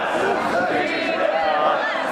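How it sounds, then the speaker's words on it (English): A wrestling crowd chants in unison at an indoor event, a dense, continuous wash of many voices with a rhythmic, sustained roar and no clear individual speech. "The crowd chanting Midwest."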